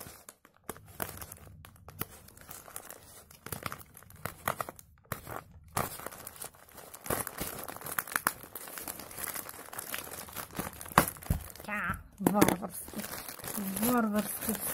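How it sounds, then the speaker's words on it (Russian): A plastic parcel heavily wound in packing tape is ripped open, producing a long run of crinkling and tearing plastic that grows louder toward the end, with a voice talking over parts of it. "Варварски вскрыла пакет."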